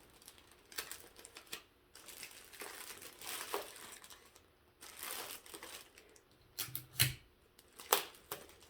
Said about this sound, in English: And we're going to tape it.